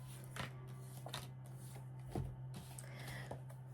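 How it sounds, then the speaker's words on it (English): Soft riffling card shuffles at close range, a few brief bursts of papery flicking over a steady low hum. "One more shuffle."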